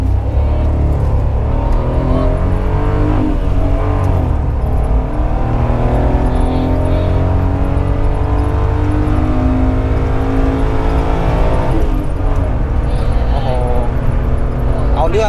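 A Mira car engine revs up and down loudly and steadily nearby, its pitch rising and falling, with people talking over it.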